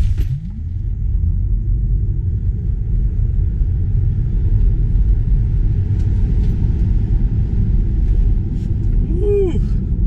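Tesla Model 3 Standard Range Plus electric drive launching hard from a standstill toward 60 mph, a loud steady low road-and-motor rumble sustained throughout with a faint rising whine near the end.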